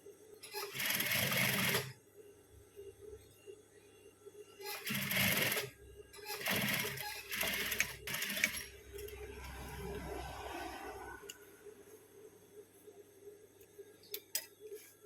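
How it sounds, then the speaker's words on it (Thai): Sewing machine stitching a Thai shirt with a mandarin collar, several loud close bursts of rapid whirring stitching separated by pauses, with small clicks and soft handling noises between them. "เดี๋ยวขอเย็บด้านนี้นะคะ ขอเย็บด้านนี้ที่ถนัดแล้วกันเนาะ"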